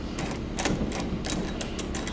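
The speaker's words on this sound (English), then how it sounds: "Screw that in." Screws being driven in during a door lock installation, giving a run of quick, close mechanical clicks and ratcheting over a steady background hiss.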